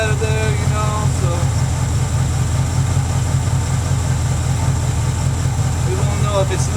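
A Ford Mustang engine idles steadily with a low, even rumble, someone talking over it throughout.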